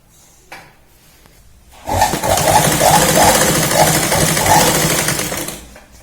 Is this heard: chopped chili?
no